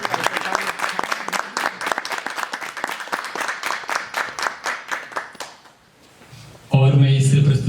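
Audience at a poetry gathering claps for a poet, a crisp burst of many hands that thins and fades out, followed by a voice speaking.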